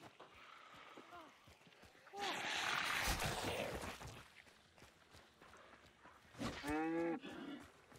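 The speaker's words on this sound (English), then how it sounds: "the cow's gonna make a shit ton of fucking noise" A cow in the video game Hunt 1896 lets out a loud, drawn-out moo near the end, following a burst of noisy in-game commotion, while players talk over the scene.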